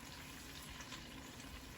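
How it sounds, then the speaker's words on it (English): Water, about two cups, is poured into a pot of dolmades on the stove, a continuous low, steady gush of liquid filling the pot from start to finish. "we are going to just cover this with water"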